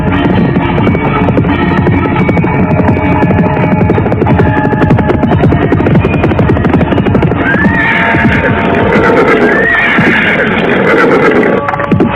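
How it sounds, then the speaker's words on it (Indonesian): A horse arriving fast in a dramatized scene, with dense continuous hoofbeats driving under loud layered sound effects and a couple of sharp whinnies partway through. "tiba-tiba mereka dikejutkan oleh suara derap seekor kuda yang datang dengan cepatnya"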